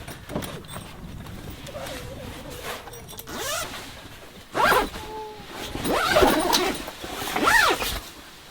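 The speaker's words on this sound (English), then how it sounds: "so that just sort of zips on like that, as you can see." Zipper on the cover of a walk-up hardtop camper being zipped: several short, rasping zip strokes at close range, irregular and separated by pauses, with light handling noise between them.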